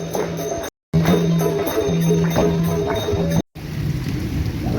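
Heavy rain pours down on a village during a windy storm, a dense, steady hiss that holds throughout with two abrupt brief dropouts, close and loud with no talk.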